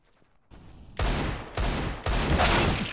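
Three loud gunshot bursts in the video game CS:GO ring out at roughly half-second intervals, each with a sharp crack and brief echoing tail, after a moment of near silence.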